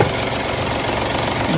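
Rough, unsteady idle from a Mitsubishi Mirage engine with a throttle-delay and low-power fault, heard up close as a continuous loud rumbling drone with slight wavering and no voices.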